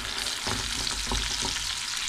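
Spinach and onion fry in a pan with a dense, steady sizzle and a few soft stirring knocks, close and continuous.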